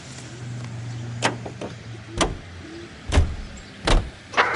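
A car being driven in the video game LA Noire: a steady low engine hum fades out early, followed by several sharp door clunks and thumps spaced a second or so apart, with no voices.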